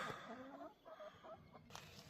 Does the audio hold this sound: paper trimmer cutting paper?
no